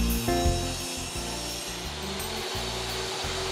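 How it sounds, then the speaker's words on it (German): A sliding-table saw cutting bevels in wood for a reclaimed-timber bottle carrier, with a steady, loud whine running throughout and short, regular dips as each cut ends. "Also ich schneide hier die Schrägen mit meinem Schiebeschlitten ab."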